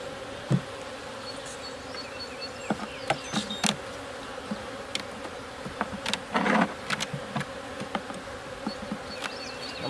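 Honeybees hum steadily around an opened hive during a May inspection, with individual bees buzzing close past in brief louder passes and occasional scraping clicks from handling the frames.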